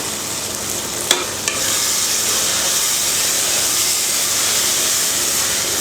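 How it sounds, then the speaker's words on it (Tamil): Chili powder, garam masala and turmeric fry in hot oil for a dried-fish thokku, giving a steady, close hiss of sizzling with a couple of sharp clinks of stirring near the start. "இன்னும் ஒரு நிமிஷம் நல்லா இந்த எண்ணெயில் வந்து மிளகாத்தூளெல்லாம் நல்லா வதங்கணும்"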